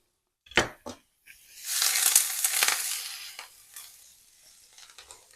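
Chopped onion and garlic fry in a pan with a loud, bright sizzle after a few sharp knocks and stirring scrapes, the hiss swelling and then slowly tapering off.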